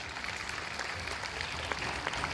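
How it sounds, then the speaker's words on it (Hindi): An audience claps in a university auditorium in Hisar, a steady, fairly faint and distant patter of many hands with no talk over it. "सरकारी स्कूलों के लिए यदि आप तालियां बजाना चाहें तो बजाइएगा।"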